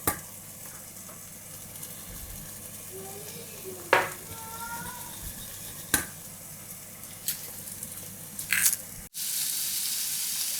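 Béchamel sauce being stirred in a pan over lowered heat, with soft continuous scraping and faint sizzling, a few sharp utensil clinks against the pan, then a louder steady hiss near the end.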